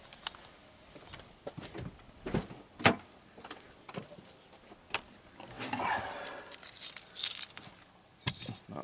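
Keys jangle close by in scattered clinks and rattles, one sharper chink partway through and busier metallic shaking near the end, with no talking.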